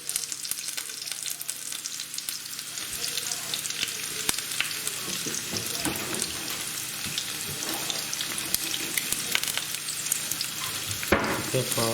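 Crispy chili beef frying in hot oil, a continuous loud sizzle with occasional stirring clinks and a brief tap-water splash near the end.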